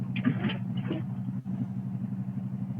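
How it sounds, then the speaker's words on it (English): A car engine hums steadily in the background, a low continuous drone with a brief clatter near the start and a short dip midway, with no talk over it. "I can hear the car in the background"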